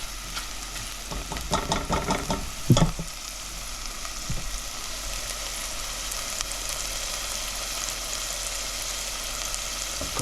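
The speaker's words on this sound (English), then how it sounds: "we're gonna cook this until the butter down below starts to brown just a little bit, not too much" Baby back ribs sizzle in browning butter in a pan, a soft, even frying hiss running throughout, with a few brief clatters of handling or flipping early on and no talk.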